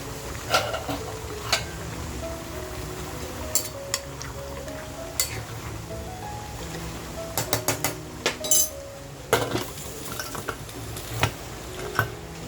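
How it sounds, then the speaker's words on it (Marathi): A pressure cooker holding spicy mutton masala gets its lid fitted, giving scattered light metallic clinks and taps over a low steady background hum, bunching into a quicker cluster of clicks toward the end. "आता आपण कुकरला झाकण लावून मस्त 3 शिट्या देऊन घेऊया."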